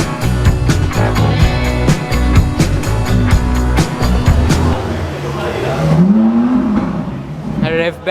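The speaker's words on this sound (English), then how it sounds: "She's taking a video and then revving the car." A classic car at an outdoor show in Oman revs its engine, one rising vroom climbing sharply above a busy background of crowd noise and other sounds.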